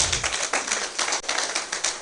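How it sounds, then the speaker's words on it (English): A conference audience at an education gathering claps steadily after an academic presentation, a dense, even patter of many hands without talk. "Another round of applause."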